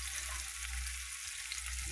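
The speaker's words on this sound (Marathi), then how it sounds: "आता हे तेलात सोडायचं बघा" A ground paste of coconut, coriander, garlic and ginger frying in oil for a chicken curry, giving a constant hissing sizzle with no voices.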